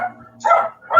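Dogs bark in two loud bursts separated by a quieter stretch of low rumbling, the barks sharp and close.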